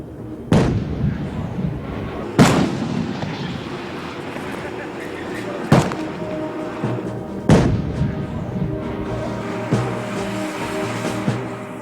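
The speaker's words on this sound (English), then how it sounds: "The firepower of the G6 is tremendous, as evidenced by this demonstration." A G6 self-propelled howitzer fires in an artillery demonstration, several sharp booming blasts a few seconds apart with rumbling echoes between them, while a narrator speaks over the shots.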